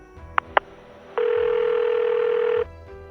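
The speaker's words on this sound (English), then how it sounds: "She called Mrs. Jenkins's phone, but it rang endlessly without an answer." Two brief clicks are followed by a single long, steady telephone ringback tone lasting about a second and a half. It rings unanswered against a quiet background, then cuts off.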